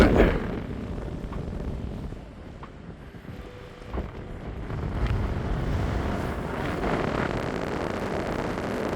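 Wind gusts across a mountain ridge in the Central Fannichs, a loud, rough rush buffeting the microphone that dips briefly and then builds to a steady roar.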